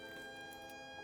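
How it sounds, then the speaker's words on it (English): A siren from the video game Miasma Chronicles wails faintly and steadily, a quiet sustained electronic tone with layered harmonics and no talking. "God, that siren is gonna piss me off"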